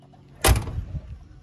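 The big heavy door of a 1977 Chevrolet Monte Carlo with 19,000 miles shuts with a single solid thud, close and fairly loud, followed by a short low rattle as it settles.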